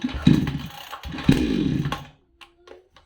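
A Chinese-made Mur-Cell HR5020 gasoline chainsaw engine revving in two loud, close bursts, then dropping to a brief idle and cutting off into a few faint clicks.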